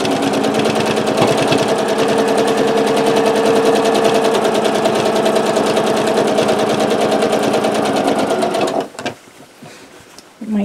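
A sewing machine stitches quilt binding on a disappearing 9-patch quilt in a fast, steady mechanical whir for about nine seconds, then stops, leaving quiet handling sounds.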